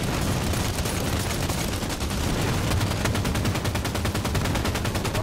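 Video game gunfire, a loud, unbroken barrage of rapid automatic shots and overlapping bursts that fills the whole stretch without pause, with no voices over it.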